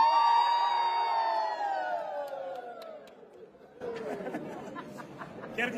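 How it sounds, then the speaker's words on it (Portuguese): At a 123rd birthday party for a woman in Paraná, Brazil, a crowd shouts, whoops and cheers loudly after a voice calls out over a microphone, with chatter mixed in. "tá feliz então no aniversário da Dona Júlia, dá um grito aí."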